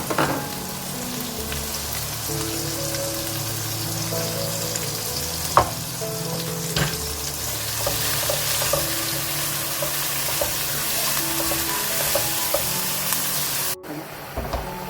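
Spinach and yogurt fry and sizzle steadily in a pan for palak gosht, a constant crackling hiss with occasional stirring scrapes close by.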